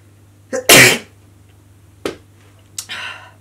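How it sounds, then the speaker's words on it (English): Sneezes burst out close to the microphone: a sharp sharp inhale-and-blast around the first second, followed by two shorter, softer sneeze-like bursts a little later, with quiet between them. "I hate to sneeze."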